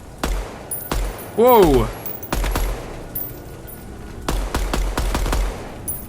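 Hip-fire bursts from a weapon on a shooting range in the video game Deadrop, several loud, close rapid-fire volleys separated by pauses, with a short exclamation from a player between them.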